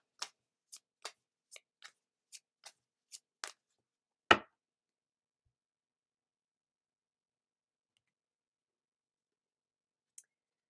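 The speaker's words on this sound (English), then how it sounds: "Next, we're going to pull a card from the Spirit Animal deck." Spirit Animal oracle cards are shuffled and one card is pulled, giving a quick run of light, crisp card flicks followed by a single louder snap, then near silence and one faint tick.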